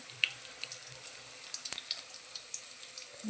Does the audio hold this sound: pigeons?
no